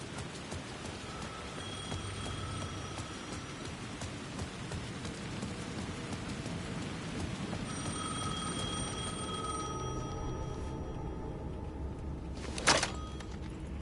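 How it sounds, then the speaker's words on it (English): A telephone rings in two separate bursts of bell tones over steady falling rain, followed near the end by a sharp crack of thunder. "The phone was ringing again."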